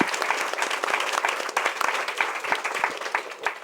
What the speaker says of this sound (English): Maybe a special round of applause for Ray in South Africa.